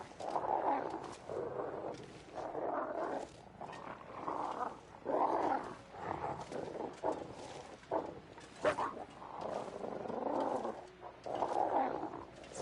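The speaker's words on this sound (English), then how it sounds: "See, why is that tree growling at me?" A creature in a video game, seemingly a tree, growls in repeated low, rumbling bursts separated by short pauses, fairly quiet overall.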